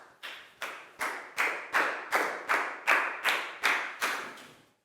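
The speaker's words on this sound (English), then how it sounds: "Big round of applause for Prow," Ten evenly spaced claps from a class applauding a pupil in a Year 4 English lesson, each sharp and fading quickly, in a steady rhythm with no voices.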